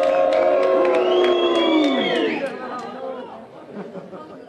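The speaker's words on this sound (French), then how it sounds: "Vous pouvez applaudir maintenant." At a political rally in Carbonne, an audience erupts in loud cheering and shouting voices that hold strong for about two seconds, then fade into scattered crowd noise.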